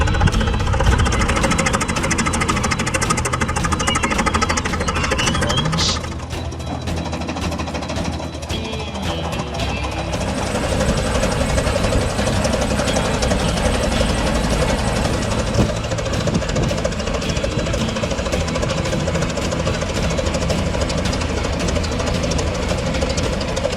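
A heavy 4-cylinder gasoline tractor engine of 22.9 liters, rated about 75 horsepower at the pulley, running loud and rough with a steady chugging throb throughout, briefly dipping before picking back up, with no voices.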